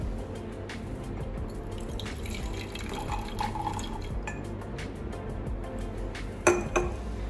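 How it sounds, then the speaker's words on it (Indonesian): Distilled water trickles into a glass beaker in a lab, faint drips and splashes over a steady background hum, ending with a few brighter clinks of glass. "Lalu kita tambahkan Aquades sebanyak 50 ml."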